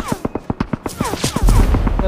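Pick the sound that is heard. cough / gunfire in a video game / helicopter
gunfire in a video game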